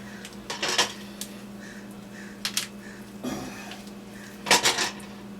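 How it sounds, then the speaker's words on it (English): A knife works around the joint where a chicken drumstick meets the thigh, producing a few close clicks and clatters against a dish or board, scattered through a steady low hum, with no talking. "I'm gonna take my knife and just cut around where the drum meets the thigh"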